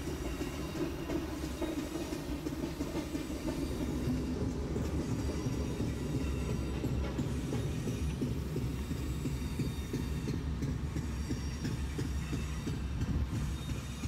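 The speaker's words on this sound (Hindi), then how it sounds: "यार ट्रेन ने हमारी कुछ ज़्यादा स्पीड पकड़ ली है, ब्रेक लगाना चाहूँगा थोड़ा सा।" Steady, continuous rumble and rail noise of an Indian Railways double-decker express with ICF coaches as the driver brakes in a train simulator game, loud and sustained with no talking.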